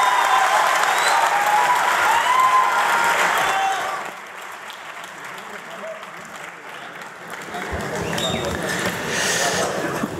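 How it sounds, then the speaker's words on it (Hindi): Loud audience applause welcomes a poet at a Dakani mushaira during a literature festival, dense clapping that drops away after a few seconds, then a quieter stretch of murmuring before clapping and crowd noise swell again near the end. "जोरदार तालियों के साथ स्वागत करिए"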